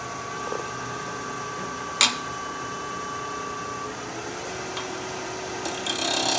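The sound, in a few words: spindle gouge cutting wood goblet on lathe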